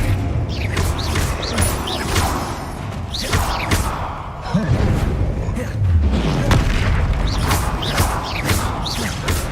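Fiery explosive spell blasts go off in the wizarding game Hogwarts Legacy during a duel, with repeated booming thumps and crackles amid a busy, dense mix of combat effects and a voice calling out spells.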